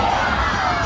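A large theme park crowd shouts together in a short, loud, sustained burst of massed voices.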